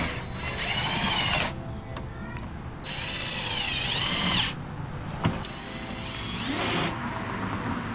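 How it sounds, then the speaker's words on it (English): A power drill runs in three separate whining bursts while bolting a front lip onto a car, each lasting one to two seconds. The bursts are loud and close, with the pitch rising and falling, and a sharp clank falls between the second and third. "I'm going to bolt everything in and give you guys the final results."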